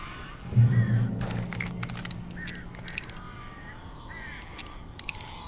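Crows caw in the video game Alan Wake Remastered, several harsh calls in a ragged burst over a low rumble and scattered clattering, with a voice speaking briefly at the start.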